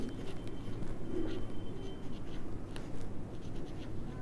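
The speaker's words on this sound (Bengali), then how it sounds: "আমি লিখলাম জনি" Pen writing on paper: a soft, continuous scratchy rustle of strokes, close but quiet, with faint background hiss.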